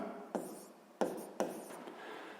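A pen or marker scratches across a surface while writing down the given data of a physics problem, in three quick strokes with a faint hiss between them.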